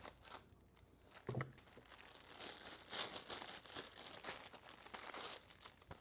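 Scissors cutting open a plastic shipping bag, with close crinkling and rustling plastic throughout and a few snips mixed in, steady and fairly faint.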